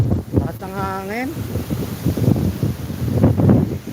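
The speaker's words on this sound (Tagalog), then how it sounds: "Lakas ng hangin." Strong wind buffets the microphone outdoors, a steady broadband rumble with gusts throughout, while a person talks over it and a brief tonal animal-like call rises early on.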